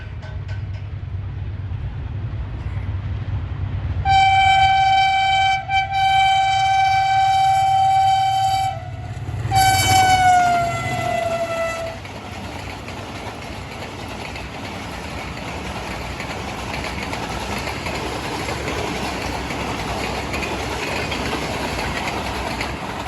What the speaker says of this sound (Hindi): बहुत ही ज़बरदस्त स्पीड में गुजरी है 10 down Allama Iqbal express AG 30 60 26 के साथ काना काछा रेलवे स्टेशन से